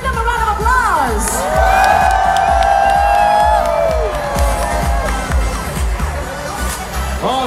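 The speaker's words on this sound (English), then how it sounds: "Give them a round of applause." Large outdoor crowd at a National Day Parade preview in Singapore cheering for the Red Lions parachute team, loud sustained whoops, shrill shouts and roaring voices swelling and fading, with clapping beneath.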